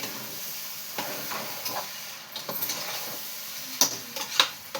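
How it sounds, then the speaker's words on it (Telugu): Rice for biryani fries and is stirred in a hot pan, a continuous sizzling hiss broken by irregular scraping strokes and a few sharp clinks near the end. "రైస్ ఇలా వేగాలి."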